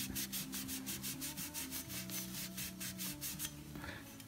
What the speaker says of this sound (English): And then you need to Scotch Brite it.